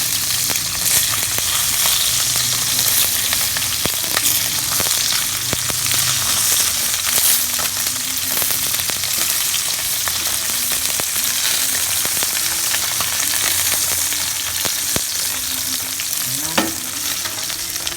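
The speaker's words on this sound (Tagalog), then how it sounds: "nagpiprito na rin ako habang naglilinis ako ng tahong" Smoked fish (tinapa) fries in a pan with a steady, loud sizzle and crackle, punctuated by sharp pops and the occasional scrape of stirring, with no talking.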